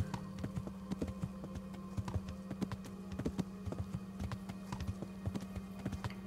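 Horse hooves clop in a quick, steady rhythm while riding in the medieval video game Kingdom Come Deliverance, soft and fairly quiet throughout with no speech.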